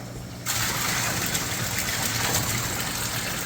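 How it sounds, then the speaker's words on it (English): Water gushes steadily into a container for a 20-gallon kalkwasser mixture, switching on abruptly and then running as a loud, constant rushing fill. "We're going to go ahead and fill this up with 20 gallons."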